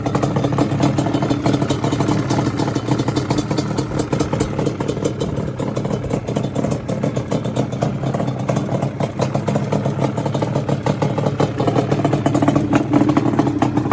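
A 1997 Yamaha Banshee 350 ATV engine idling steadily, a continuous loud, rattly two-stroke burble with a buzzing clatter running unbroken for the whole stretch.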